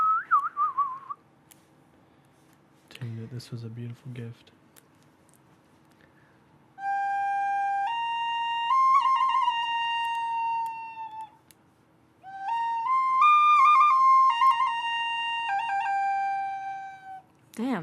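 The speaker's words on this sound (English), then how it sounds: "You gonna play a little tune for us on the flute?" A flute plays a short tune in two phrases of sustained notes stepping up and down, clear and close, after a brief spoken remark and a few knocks.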